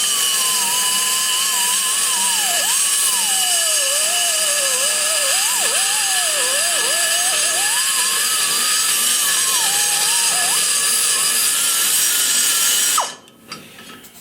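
A high-speed die grinder whines steadily for about thirteen seconds, wavering in pitch as it cuts away the rocker stud bulge inside a Dart big-block Chevy cylinder head port, then stops abruptly.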